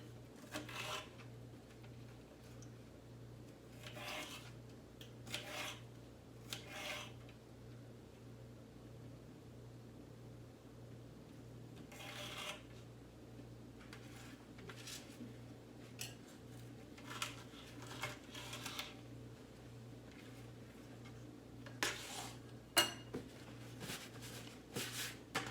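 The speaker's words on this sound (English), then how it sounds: "we're cutting these into slices, long ways, and then about about 1 inch in width" Knife slicing bell peppers lengthwise into inch-wide strips on a cutting board, heard as a series of short, faint taps and scrapes at irregular intervals over a steady low hum, with no talking.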